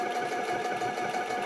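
A sewing machine stitches a line on a colorful cow quilt square with a short, steady, even whir that holds constant and close, with no voices over it.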